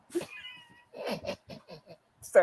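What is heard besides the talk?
pet cat meowing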